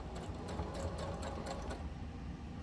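A sewing machine stitches a fabric bookmark, a quiet steady rapid clatter of the needle running continuously at close range, with no talking.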